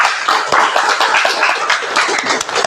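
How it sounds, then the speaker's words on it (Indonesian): Schoolchildren in an Indonesian classroom clap their hands together in a loud, dense burst of applause that fills the whole moment, close and continuous with many overlapping slaps. "Masya Allah, tepuk tangan dong"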